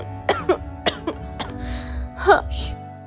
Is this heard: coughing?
yes